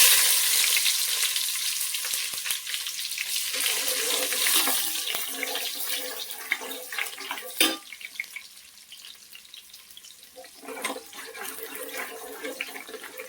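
Whole spices frying in oil in a pot for biryani, making a steady bright sizzle that fades slightly toward the end, broken by a few sharp clinks of a spoon on the pan.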